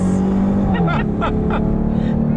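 A Dodge Durango Hellcat towing a 5,000-pound trailer accelerates hard, its engine drone climbing steadily in pitch and staying loud throughout, close up from inside, with a person's excited voice talking over it.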